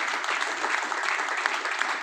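A crowd at a business meeting claps together in a steady, dense wash of applause, moderately loud and continuous throughout.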